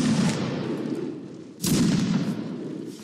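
Musket volleys in a Mount and Blade Napoleonic line battle: two loud, booming volleys, one at the start and another about halfway through, each followed by a rumbling tail of scattered shots.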